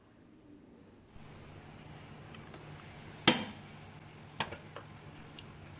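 Raw banana curry simmering in a covered pot, heard as a soft, steady bubbling hiss that starts abruptly, with a sharp lid clank and a few lighter knocks close by.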